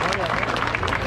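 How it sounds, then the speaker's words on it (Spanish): Brief burst of crowd applause at a rodeo dance, dense and steady clapping from many hands filling the moment at close range. "Échenle el aplauso, por favor, hombre."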